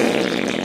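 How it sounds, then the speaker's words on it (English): A short, loud, buzzing fart lasting under a second, rough and sputtering, heard alone without talk. "stop farting"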